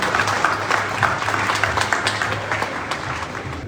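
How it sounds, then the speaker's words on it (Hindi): Loud, dense applause from the audience at a university convocation ceremony, steady clapping from many hands sustained throughout with no speech over it. "जोरदार तालियों के साथ हम आपका अभिनंदन करते हैं।"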